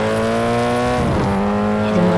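Engine noise from a race car during a race replay in the video game Rally Horizon: a loud, steady sustained drone, shifting pitch around midway, with no talk over it.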